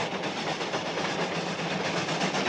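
Cannonball steam train running steadily along the rails, a continuous broadband rumble and hiss with faint rhythmic clatter, close and constant throughout with no voices.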